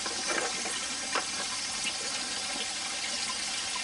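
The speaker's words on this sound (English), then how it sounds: "I've got a constant water flow over this side now" Water flows steadily from a hose or tap over magnet fishing finds being cleaned, a faint continuous splashing rush with no voices.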